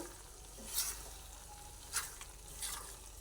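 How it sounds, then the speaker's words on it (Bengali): Soaked chickpeas for ghugni fry over a high gas flame in a soft, continuous sizzle, with three distinct stirring scrapes spaced about a second apart, fairly quiet and with no voices. "ভেজে নিচ্ছি এবার গ্যাসের ফ্লেমটা একদম বাড়িয়ে দিলাম দিয়ে এটা নাড়াচাড়া করে নিচ্ছি"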